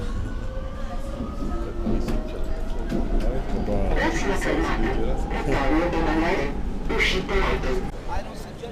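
A Rome metro train rumbles and screeches along the rails, with squealing metal and clatter building toward the end, and people talking over it.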